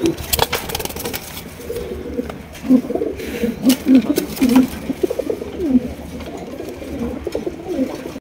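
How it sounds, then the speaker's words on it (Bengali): A pair of blackless bondinet pigeons cooing: repeated low rolling coos close by, in short bursts over a few seconds, with some background noise. "আরো এক জোড়া ব্ল্যাকলেস বন্ডিনেট কবুতর।"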